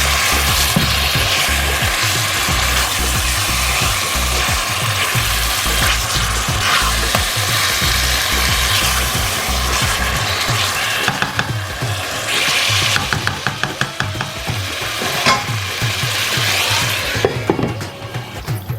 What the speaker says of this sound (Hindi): थोड़ा जिहा चिकन नूं भुनांगे ते फिर इहनूं ढक के पकावांगे